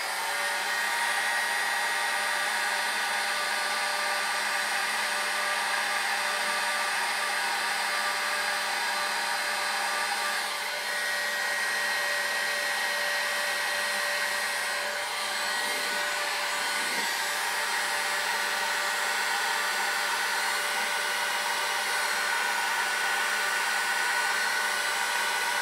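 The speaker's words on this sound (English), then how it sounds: "Then I'm going to take my heat gun and I'm going to heat it up." A heat gun warms the trim decals on a Silverado 2500HD pickup, producing a steady, continuous blowing hiss and fan whir that holds at an even level throughout without pauses.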